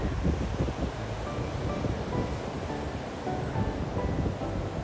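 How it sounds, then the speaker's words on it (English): Steady, loud wash of surf on a large beach on the Indian Ocean side of Strahan, Tasmania, with constant roaring waves and wind buffeting the microphone and no voices. "This is the beach on the Indian Ocean side of Strahan."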